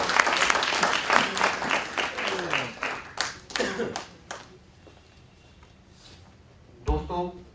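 An audience at an evening poetry gathering breaks into loud applause that swells, then fades to scattered claps and a lone burst of clapping near the end.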